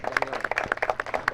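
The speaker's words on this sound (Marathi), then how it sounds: "तरी सगळे टाळ्या म्हणून स्वागत करायचं जरा जोरात." A sparse audience at a cricket tournament opening claps to welcome sponsors, with distinct, uneven individual handclaps close by forming a light, ragged round of applause.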